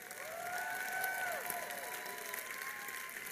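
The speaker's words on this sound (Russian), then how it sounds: "Большой аплодисмент для Владимира Ерашева." Audience applause at a business entrepreneurs' congress, a steady wash of clapping from a large hall with some crowd noise, while sustained tonal music or feedback sweeps run through it.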